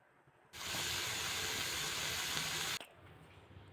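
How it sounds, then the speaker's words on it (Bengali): Loud, steady steam hiss from a little water boiling in a wok to steam cauliflower, starting abruptly and cutting off sharply near the end, with no voices. "কড়াইতে সামান্য কিছু জল গরম করে ফুলকপিগুলোকে কিছুক্ষণ ভাপিয়ে নিচ্ছি"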